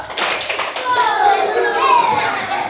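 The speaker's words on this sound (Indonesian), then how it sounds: "Tepuk satu, dua, tiga." Schoolchildren in a classroom clap in a counting clap game, a burst of quick group claps at the start followed by their voices chanting together close by.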